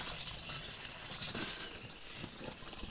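A little water is poured into the tank of a small homemade sprayer, giving a steady, close hiss and splashing that runs unbroken for the whole stretch.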